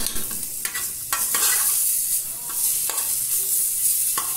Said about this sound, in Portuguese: Deixa essa banha derreter aqui.